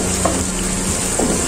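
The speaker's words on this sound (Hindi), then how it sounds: "हम फ्राई करते जाएंगे" Onions fry steadily in a pan for aloo gobi, a constant close sizzle with a faint scrape or two of stirring, no voices.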